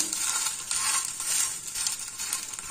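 Food frying in a hot pan after being flipped, sizzling steadily and crackling at moderate loudness throughout, with no talking.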